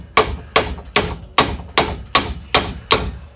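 A tool taps a garage door torsion spring eight times in a steady rhythm, each strike a sharp, loud metallic hit with a short ringing decay, close up and with no talk.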